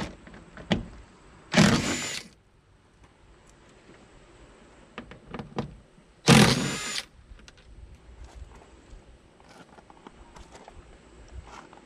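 Power tool removing window bolts on a Nissan Rogue door, with two loud close whirring bursts of about half a second each, separated by quiet handling clatter.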